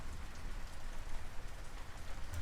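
Steady rain ambience plays as background during a Curse of Strahd tabletop role-playing session, a continuous broadband patter of raindrops on a surface with no talk over it.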